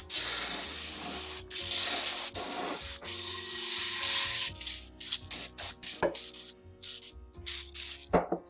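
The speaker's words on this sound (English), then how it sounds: "let's spray it all around." A close aerosol cleaner sprays onto the bottom of a pan in long hissing bursts, then shorter intermittent spurts, with rubbing and handling noises between them.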